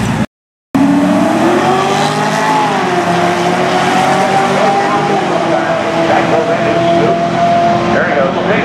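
At Irwindale, a Corvette C8 races a 5-liter Mustang running sticky Hoosier rear tires. Loud, sustained engine roar with rising pitch follows a brief cutout at the start, and a voice talks over the racing.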